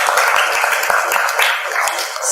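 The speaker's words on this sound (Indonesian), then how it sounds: "Tepuk tangan semuanya." Hand clapping from an audience at a children's Islamic storytelling session, a brisk, fairly loud, dense patter of claps that continues for a couple of seconds and eases off slightly near the end.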